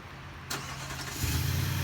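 A 2020 Nissan Titan pickup truck engine cranks and catches on remote start, then settles into a low, steady idle rumble, heard up close.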